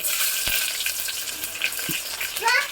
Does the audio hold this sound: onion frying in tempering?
yes